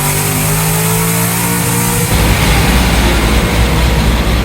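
A Cadillac CT5-V Blackwing on a dyno during a baseline run revs loud and close, with a steady engine drone that swells into a harsher, fuller roar partway through and holds there.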